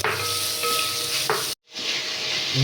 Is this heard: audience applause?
no